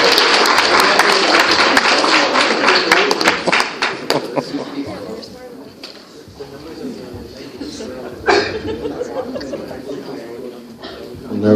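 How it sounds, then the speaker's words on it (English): An audience at a 20th-anniversary reunion gala applauds a speaker. The clapping is loud and dense at first, then thins into scattered claps and crowd chatter, with voices talking over the tail. "So let's give a round of applause for Christian"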